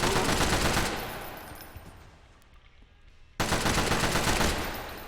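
Rapid automatic assault rifle fire in a Unity-built zombie game chatters in a dense, loud burst, fades to a near-quiet lull, then snaps back into another sustained stream of shots.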